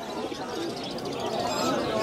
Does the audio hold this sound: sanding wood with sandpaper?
no